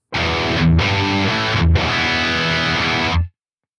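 Heavily distorted electric guitar through an Archetype: Nolly X amp simulator, untransposed, plays three sustained, crunchy chords in succession, loud and saturated, ending abruptly into silence.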